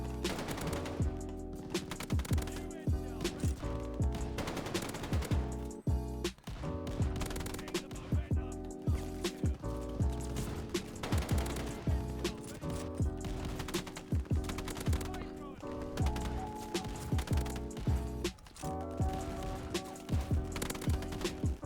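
Rapid automatic fire from the KGM-40 assault rifle in Call of Duty Vanguard, sustained bursts of sharp close shots in quick rhythm with brief pauses, repeating steadily over about twenty seconds.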